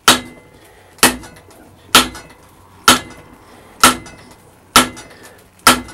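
A hammer strikes hot metal on the edge of an anvil in seven sharp, ringing blows spaced about a second apart, each loud and close, followed by a short decay with quiet between strikes.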